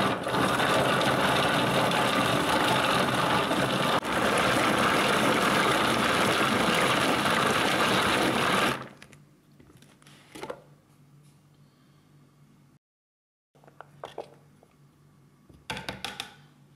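A Swift chopper machine cutting raw carrots gives a loud, continuous whirring and grinding buzz for several seconds, then cuts off, leaving quiet with a few sharp clicks and knocks.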